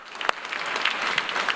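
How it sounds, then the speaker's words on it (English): Brief burst of audience applause for investors at a startup health festival, a roomful of hands clapping steadily with a sharp clap near the start. "All right, let's give them a round of applause."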